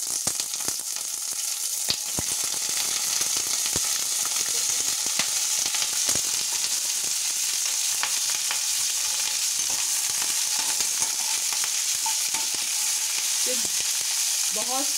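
Cauliflower pieces fry in hot mustard oil in a kadai, giving a dense, constant sizzle with scattered pops and crackles, plus occasional clicks of a spoon against the pan.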